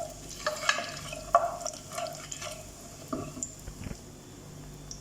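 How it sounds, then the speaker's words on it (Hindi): White cumin seeds and asafoetida crackle in hot oil at the start of a masala khichdi. Scattered pops and sharp clicks rise over a low, steady sizzle, with a few louder snaps close by. "सफ़ेद जीरा, हींग 1/4। अब इसे क्रैकल होने दें।"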